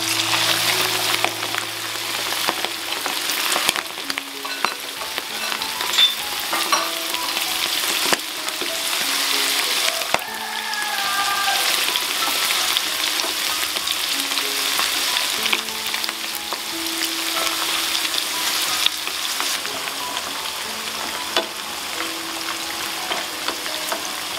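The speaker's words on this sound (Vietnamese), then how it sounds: "Sau đó thì em sẽ cho cái phần tôm vào để chiên nhé." Loud, continuous sizzling of shrimp frying in hot oil, with crackling and occasional stirring clinks over a steady hiss.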